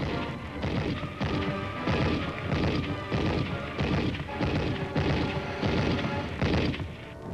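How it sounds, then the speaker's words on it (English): Recoilless rifle and machine gun fire in a Korean War battle, a dense run of heavy rhythmic blasts and bursts roughly every half second, loud and continuous throughout. "A recoilless rifle is brought into action against the stubborn resistance."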